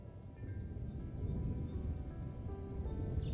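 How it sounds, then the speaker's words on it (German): Steady rainfall from a storm in the sci-fi survival game Stranded: Alien Dawn, a dense, even hiss that continues without a break and with no distinct thunderclap. "Ach, es regnet einfach."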